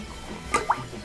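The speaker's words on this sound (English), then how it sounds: "All right, so we're gonna add our ice" Ice drops into a mixing glass for a grape cocktail: two quick, close clinks or plops spaced a moment apart, over quiet room tone.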